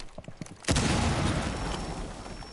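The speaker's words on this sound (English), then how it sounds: "you can hear gunshots" Gunfire in the Rainbow Six Siege video game: a sudden loud burst of shots after a short quieter stretch, then a dense, sustained clatter of firing and echoes that stays loud to the end.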